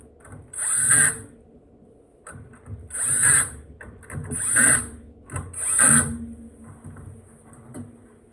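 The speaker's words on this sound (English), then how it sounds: "we need to switch the tool to T25 to install the screws" Power screwdriver fitted with a T25 bit driving screws while reassembling a Floatwheel ADV2 electric board, four short whirring bursts with brief pauses between, close by and without talking.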